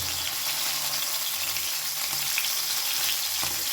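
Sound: pomfret fish frying in hot mustard oil

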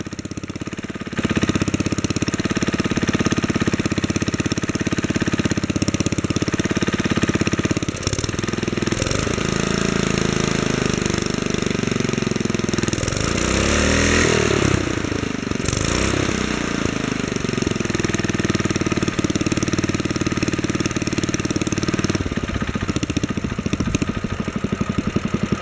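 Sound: small engine over-revving

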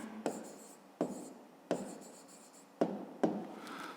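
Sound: writing the answer by hand

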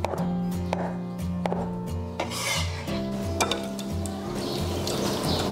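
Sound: knife slicing firm tofu

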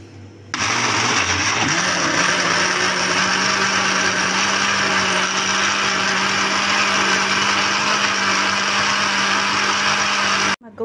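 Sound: blender pureeing cooked lentil and vegetable soup (shorba ades)

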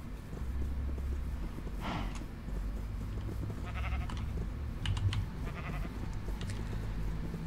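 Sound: sheep bleating in the video game Minecraft (IndustrialCraft)

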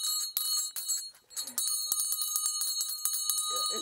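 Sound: teacher ringing the bell at one-room schoolhouse

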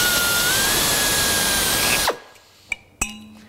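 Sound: drilling through template bushing for nutplate

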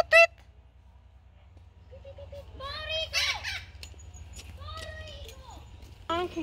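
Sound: parrots squawking

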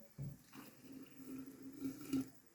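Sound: boiling water poured into jar of berries with mint

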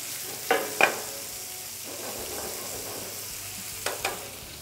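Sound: prawns searing and sizzling in a pan

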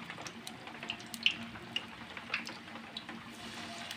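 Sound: kepok bananas frying in oil

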